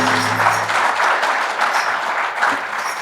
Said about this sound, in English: Applause for the final song.